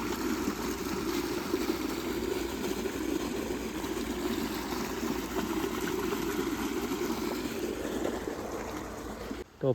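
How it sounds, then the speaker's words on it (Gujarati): A farm water pump motor runs steadily in a field, a continuous close mechanical drone mixed with rushing water, unbroken for the whole stretch before cutting off abruptly at the very end. "મોટર થઈ ગઈ ચાલુ."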